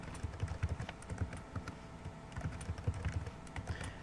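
A password is typed on a computer keyboard: quiet, uneven bursts of soft key clicks tapping along in a rapid, irregular rhythm.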